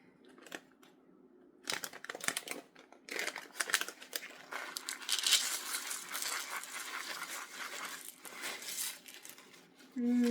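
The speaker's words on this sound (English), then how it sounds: "And I am going to pour my sprinkles out in this paper plate." Small sprinkles pour and patter onto a paper plate in a steady, dense rustle, close up, with a brief crinkle at the start and a hum at the end.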